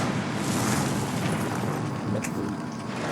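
Cartoon explosion as firecrackers on a birthday cake blow up a plane aboard, a loud sustained roaring blast with crackling bursts, heard alone.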